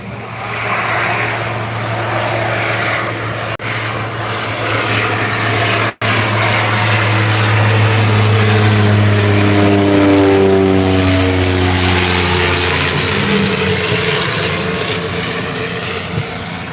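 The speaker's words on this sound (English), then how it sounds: "Is this Cessna 208 Caravan coming in from Redcliffe?" A Cessna 208 Caravan propeller aircraft comes in with a loud, steady turboprop drone whose pitch slowly shifts as it passes close by outdoors, holding strong for the whole stretch with no talk.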